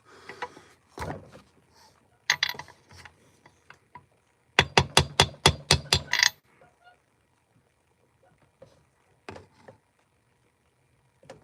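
Hammer strikes on metal while replacing an oil seal, a quick run of about eight sharp evenly spaced blows plus a few scattered knocks, close and loud between quieter workshop noise and brief talk.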